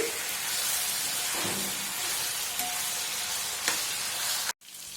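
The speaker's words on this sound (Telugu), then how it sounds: "ఇలా రెండు వైపులా తిప్పుతూ వేపుకుంటున్నానండి" Garlic chicken pieces frying in oil in a pan, a steady dense sizzle running throughout with a couple of faint turning clinks, then a brief dropout near the end.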